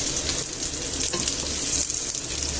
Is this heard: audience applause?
no